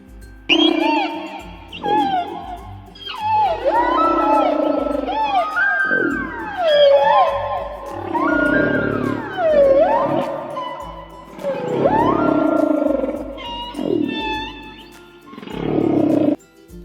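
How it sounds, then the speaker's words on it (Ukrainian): Whales calling to one another in a continuous run of loud, sweeping moans and squeals, rising and falling in pitch with rich overtones and short pauses between phrases, with no talking. "я пропоную вам послухати як же кити між собою спілкуються"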